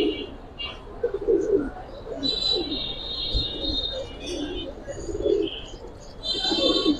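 Pigeons, among them military-type birds, coo repeatedly at a seller's loft, with soft rolling calls overlapping and a few higher chirps, close by and fairly loud, with occasional faint voices in the background.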